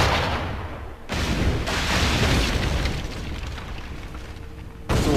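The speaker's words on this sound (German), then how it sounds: "So, dann hauen wir mal ein Feuerfass drauf." A deep, rumbling explosion of a fire barrel in Assassin's Creed 4: Black Flag booms loudly and roars on for several seconds, followed by another abrupt burst at the end.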